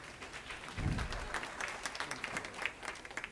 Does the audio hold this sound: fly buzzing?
no